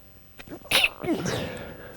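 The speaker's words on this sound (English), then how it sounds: "Oh, I'm going to sneeze." A single sneeze, a quick sharp intake followed by a burst of breathy noise, close and fairly loud.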